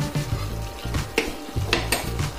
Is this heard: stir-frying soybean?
yes